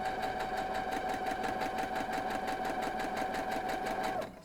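A sewing machine stitching quilt block pieces runs in a fast, steady mechanical whir with an even rapid chatter and a faint whine, close up, then stops abruptly near the end.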